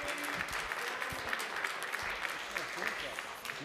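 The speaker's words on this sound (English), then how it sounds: "Please hold your applause" Applause fills the New York City Council chambers at City Hall, a steady patter of clapping from the gallery with a voice talking over it.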